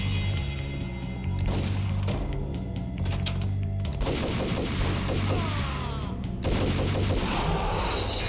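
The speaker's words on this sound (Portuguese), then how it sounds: "eu tô com uma metralhadora, o cara tá com uma pistola e o cara tá me matando" Machine gun and pistol fire in the video game Max Payne, dense bursts of rapid shots alternating with single cracks, loud and continuous over in-game background music.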